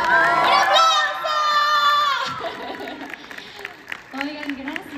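A crowd of children at a Frozen concert in Mexico shouts and cheers loudly, then the excitement fades into scattered voices and a few claps.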